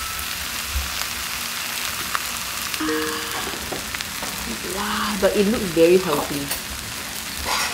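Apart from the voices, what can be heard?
food sizzling in a hot Korean stone pot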